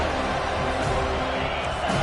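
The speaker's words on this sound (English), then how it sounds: "The roar of the crowd trying to fuel this defense to keep them pinned in their own end." Stadium crowd roaring at an LSU versus Florida State college football game, a steady, dense wash of cheering voices held throughout at a loud level, with no single voice standing out.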